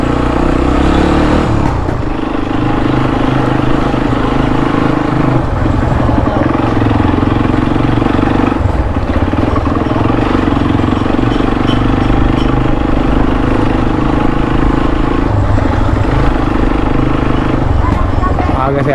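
A motorcycle engine drones and rattles continuously while riding, loud and close, with a steady low thrum and clattering, and a voice talking over it at times.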